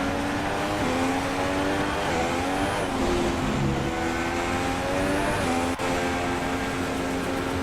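F1 2016 racing car engine in the video game, a loud continuous high-pitched whine with rising and falling revs through gear changes, steady and close with no talking.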